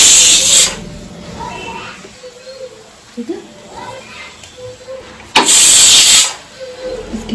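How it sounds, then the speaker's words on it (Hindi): Two loud bursts of hissing steam from a large pressure cooker's whistle, separated by a stretch of quieter household sounds and a voice speaking Hindi. "माँ, ये कुकर इतना बड़ा है तो उसकी सीटी कितनी तेज होगी"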